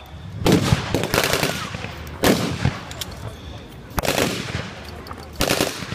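A .30 caliber machine gun fires in loud, rapid bursts at a military display, the volleys separated by short pauses, with outdoor crowd and announcer noise underneath.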